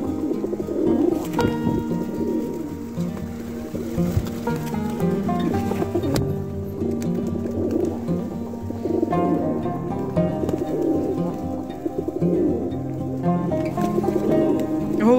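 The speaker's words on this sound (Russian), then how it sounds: "Голуби голодные, они тут никогда на руках не сидели, а сейчас вон садятся, даже не боятся." Hungry pigeons on a winter riverside embankment coo continuously and scuffle, with wing flutters and bursts of squabbling up close in a steady outdoor bustle.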